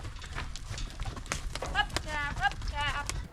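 Horse hooves clip-clop at a riding arena where kids ride, steady irregular thumps under loud voices and a few whinny-like calls.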